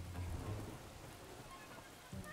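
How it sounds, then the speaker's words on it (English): Steady rain falling in the Bee Movie video game, a dense, even hiss of drops with a low rumble near the start and a brief thump near the end. "Now it's suddenly raining? Where'd the rain come from?"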